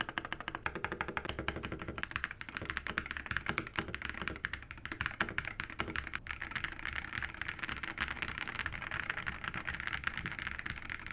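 Typing on a Higround Summit 2.0 barebones mechanical keyboard build gives a continuous stream of quiet, dense key clacks and taps at close range, with no talking.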